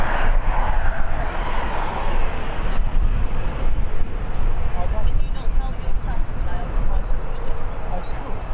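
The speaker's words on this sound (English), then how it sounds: "Do have a Jet 2 getting ready to depart, and we also have another arrival as well." A Jet2 airliner at Birmingham airport roars with a broad, sustained engine rush as it gets ready to depart, loud and steady throughout.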